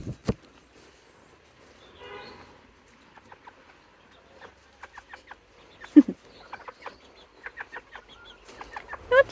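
A small Serama chicken clucks in a run of short, soft, rapid clucks and chirps, close by in a quiet setting, with a couple of louder knocks at the start and midway.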